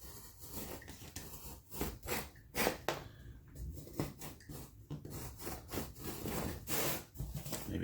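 A blade carves a thin strip off the edge of a drop ceiling tile during a bathroom rehab, giving close, rough scraping strokes that come in an uneven rhythm of rasping sweeps, with no talking.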